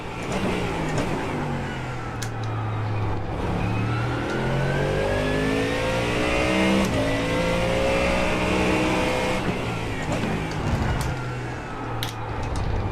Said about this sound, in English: That's a safety car doing a practice run.